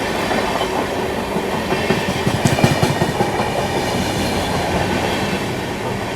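The superfast Shramjeevi Express runs on a parallel track beside the Vikramshila Express, heard from on board as a steady loud rail rumble with a burst of rhythmic clickety-clack midway.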